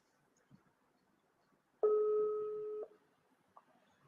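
A telephone busy signal heard while calling someone during a talk broadcast: one steady two-tone beep lasting about a second, clear against a quiet background.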